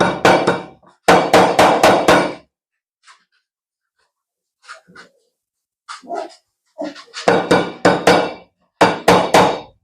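Sharp, rapid metallic strikes of a piece of metal used as a hammer in loud bursts, separated by quieter gaps with a few faint taps and knocks.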